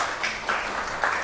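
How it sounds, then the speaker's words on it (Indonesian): Short burst of clapping from a classroom audience applauding three presenters, moderate and brief with uneven rhythm. "Oke, tiga-tiganya tepuk tangan untuk mereka bertiga ya"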